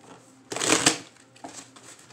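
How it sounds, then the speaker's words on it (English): Tarot cards being shuffled by hand, a loud riffling burst of paper-on-paper friction followed by a softer second shuffle, close to the mic with no talking. "Let me shuffle these again."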